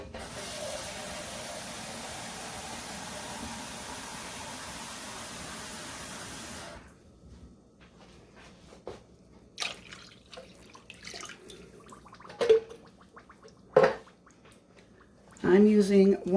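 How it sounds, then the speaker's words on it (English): A can of water pours steadily into a pot of chili made with tomato sauce, a continuous close splashing stream lasting several seconds before stopping, followed by a few faint clinks and kitchen handling sounds. "You're also going to add a can of water."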